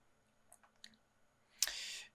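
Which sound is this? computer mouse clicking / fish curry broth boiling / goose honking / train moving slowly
computer mouse clicking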